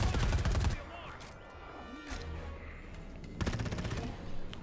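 Rapid gunfire in Predator: Hunting Grounds comes in two loud bursts, one at the start and another near the end, with quieter rumbling and voices in between.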